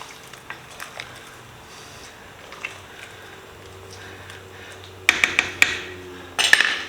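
A spoon stirs tomato paste into a pot of Durban curry, giving soft scraping and light clinks at first, then a few sharper metallic knocks against the pot near the end.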